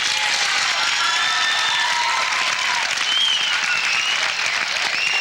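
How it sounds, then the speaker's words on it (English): An eighth-grade graduating class at a school ceremony gives itself a big round of applause: dense, continuous clapping from a crowd filling the room, loud and steady, with a few faint whistles or cheers mixed in. "why doesn't the class give themselves a big round of applause?"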